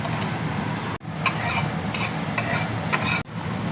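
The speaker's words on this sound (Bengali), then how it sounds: "গ্যাসের মধ্যে দেখো ফ্রাই প্যান বসিয়েছি, ফ্রাই প্যান দেখো গরম হয়ে গেছে। এবার আমি শুকনো লঙ্কা দিয়ে দিচ্ছি।" Dried red chillies dry-roasting in a hot frying pan over a gas flame give a steady dry rustling and scraping, broken by a few brief stirring clatters and two short sharp cutoffs.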